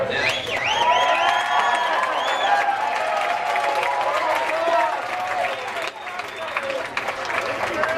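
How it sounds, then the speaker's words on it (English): An audience at a 2007 campus live skit cheers and applauds loudly and steadily, with whoops and shouts rising over continuous clapping throughout. "This is the time to cheer."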